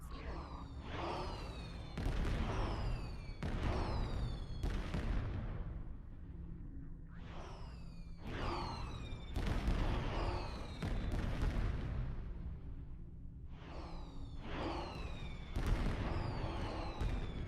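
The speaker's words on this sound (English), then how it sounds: "More fireworks, yay!" Fireworks burst in the Star Trek Online video game: a rapid series of loud booming pops, each trailing crackling, fizzing sparkles, in clustered volleys with short lulls between them and no voices.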